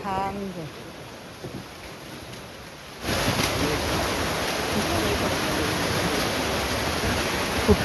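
After a few quiet seconds with a short voice, a loud, steady roar of Arabian Sea surf rushes in and continues without a break, at the coast near Korlai lighthouse and fort, Alibag.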